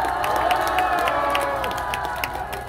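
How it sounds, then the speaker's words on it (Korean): At an outdoor election rally in front of Yeoju Hangeul Market, a crowd cheers and claps for police in a sustained, moderately distant wash of shouts and applause. "우리 경찰분들 위해서 박수 한번 쳐주시기 바랍니다"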